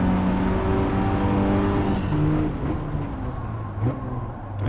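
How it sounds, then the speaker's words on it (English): A Peugeot 208 race car in Gran Turismo 7 drones loudly at high revs, its engine note stepping through gear changes and then easing off as it slows toward a braking zone. "We're driving a Peugeot 208."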